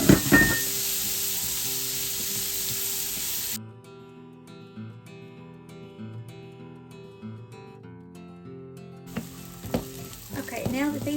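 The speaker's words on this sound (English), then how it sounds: "I'm wanting to saute an onion" Onion sautéing in a pan, a steady frying sizzle with hiss throughout, partly overlaid by background music in the middle, with brief talk at the start and end.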